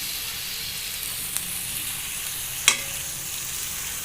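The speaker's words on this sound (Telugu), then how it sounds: "పన్నీరు విరిగిపోకుండా చిన్నగా కలుపుకోవాలి." Paneer cubes being gently stirred into a simmering masala gravy for paneer butter masala make a steady soft sizzle and hiss, with one faint and one sharper utensil clink against the pan.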